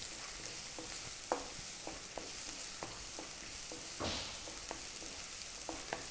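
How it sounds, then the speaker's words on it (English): Onions sautéing in a pan for rice, a steady broadband sizzle with scattered stirring clicks and scrapes, one louder burst near the middle, no voices. "Should be sauteed for 2 to 3 minutes."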